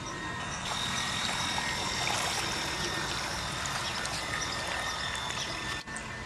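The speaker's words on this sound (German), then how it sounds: "Der ballert dahin so viel Wasser raus," Continuous rushing, splashing water gushing steadily out of a boat nearby, a broad hissing spray that holds throughout with a brief dip near the end.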